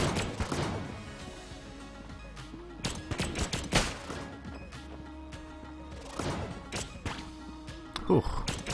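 Gunfire in the video game Enter The Gungeon, with scattered bursts of sharp shots and impacts over game sounds, dense at the start and again around the middle, close and fairly loud.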